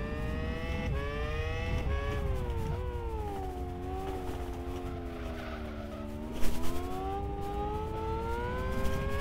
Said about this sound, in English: There's the traction control sound.